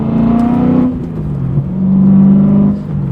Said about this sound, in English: The V8, because it sounds freaking awesome